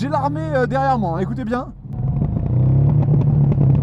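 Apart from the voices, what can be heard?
Ducati Hypermotard SP motorcycle with MIV exhaust backfiring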